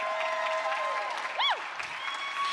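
Crowd at an indoor national championship applauding and cheering the women's doubles gold medal winners, a steady dense wash of clapping throughout with a brief bright whistle-like cheer in the middle.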